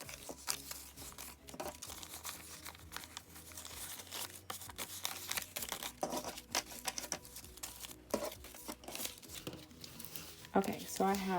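Paper cash bills being counted by hand while budgeting cash envelopes, giving a steady run of soft crinkling, flicking and rustling close by, with faint background sounds throughout.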